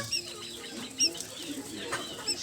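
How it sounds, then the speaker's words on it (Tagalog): One-day-old quail chicks make a few faint, high, brief chirps, spaced apart over a soft steady background hum. "ito na pala yung ating mga quail chicks. One day old."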